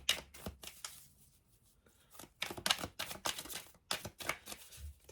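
Tarot cards shuffled and drawn by hand, a run of crisp papery riffles and flicks with short bursts and brief pauses, close and fairly quiet.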